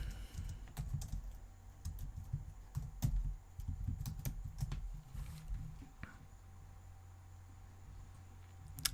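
Fingers tap on a computer keyboard in quick, uneven bursts of close, soft clicks, then fall quiet for the last few seconds.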